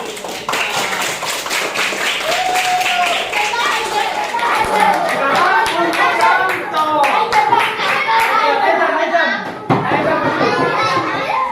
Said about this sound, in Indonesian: Sekarang beri aplaus tepuk tangan